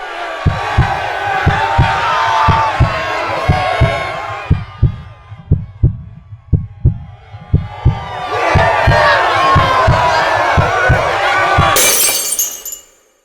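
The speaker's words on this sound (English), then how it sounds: "The crowd on the field is rallying with pro-war rhetoric." A large crowd on a field rallies with pro-war shouting: a roaring swell, then rhythmic chanted bursts in a steady beat, then another loud roar ending in a sharp crash, all close and loud.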